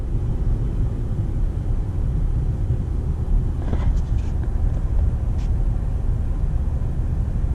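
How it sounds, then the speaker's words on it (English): A 2018 Ford F150 4x4 with the 3.5 EcoBoost engine accelerating on pavement while towing a tank weighing a couple thousand pounds, a steady low engine rumble and road roar heard from inside the cab. "We'll get on the pavement out here. We'll see how it does just accelerating."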